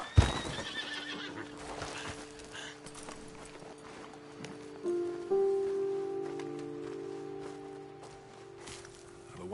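Horses neigh and whinny in Red Dead Redemption 2 after their riders dismount by a ledge above a road, with a prominent whinny midway over soft hoof clops and ambient outdoor game sound.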